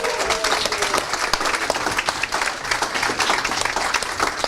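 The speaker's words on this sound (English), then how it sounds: "this is something worth clapping for" Audience at a live investor event in Stockholm breaks into sustained applause, a dense wash of clapping that stays even and moderately loud throughout, with a faint voice briefly audible beneath it.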